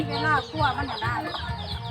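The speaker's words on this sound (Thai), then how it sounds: "ไก่ไก่" Chicken clucking up close, a run of short rhythmic clucks across two seconds with some voice-like murmur underneath.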